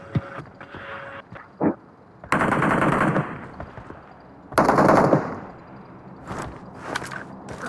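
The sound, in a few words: gunfire in a battle royale video game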